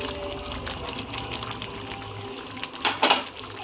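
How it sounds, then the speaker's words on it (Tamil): Paneer butter masala gravy boils in a pan, a soft steady bubbling and gurgling with a few louder pops and splutters near the end; no talking. "இப்போ நமக்கு இந்த மாதிரி பபிள்ஸ் நல்லா கொதிச்சு வர ஆரம்பிச்சிச்சு"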